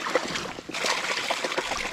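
Running water splashes and trickles steadily over a broken crab shell being rinsed by hand, a close, continuous spatter lasting about two seconds.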